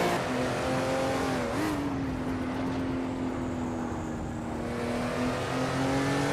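Race cars, led by a 1978 Porsche 935/78 Group 5 car, start at Laguna Seca Vintage in a racing video game: a steady, loud engine drone holds one pitch with a brief shift, sustained throughout.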